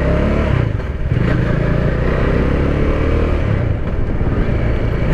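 A motorcycle rides at about forty km/h with steady, loud engine and wind noise up close, then slows under the front brake. Engine and road rumble continue throughout, with no speech over it.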